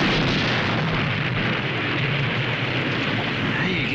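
A German tank cannon fires and its shell explodes, heard as a loud, sustained rumbling blast with a dense low boom and broadband crackle throughout, continuing without pause.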